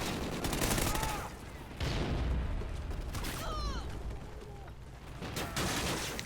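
Master Key underbarrel shotgun firing in Call of Duty, heard as loud, heavy blasts in close succession amid the busy clatter of a firefight, with a few faint game sound effects between shots.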